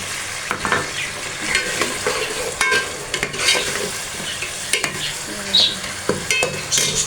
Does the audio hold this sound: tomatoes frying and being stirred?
yes